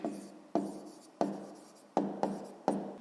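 A pen writes by hand on paper while a sixth-grade maths exercise is worked, giving six sharp scratchy strokes, each trailing off, spaced about half a second apart and close.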